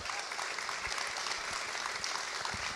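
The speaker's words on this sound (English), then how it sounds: "So let's give a big round of applause for Deshan." Audience applause at a sports marketing conference, greeting a speaker for a fireside chat: steady, dense clapping from a crowd, moderately distant and fairly quiet, with no talking.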